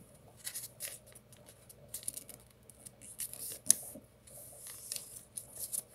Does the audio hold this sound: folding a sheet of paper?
yes